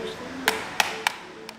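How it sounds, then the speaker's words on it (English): Four taps on a defective sealed tin of Conservas Pinhais canned fish with a slight ringing tone, unevenly spaced, the last one fainter, over a low background hum. "They do that by listening carefully to the sound of each tin."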